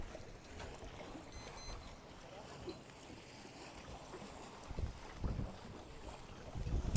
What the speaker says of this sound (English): The wind has increased a little bit more and shifted a little bit more to the right